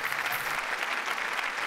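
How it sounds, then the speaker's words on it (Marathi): A studio audience at a Marathi comedy show claps enthusiastically, a dense, even burst of applause heard alone. "जोरदार टाळ्या"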